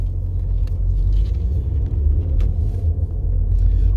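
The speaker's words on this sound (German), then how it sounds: "Ich fahre jetzt mal los." Diesel car with a particulate filter pulling away, a steady low engine rumble heard from inside or close by, with no talk over it.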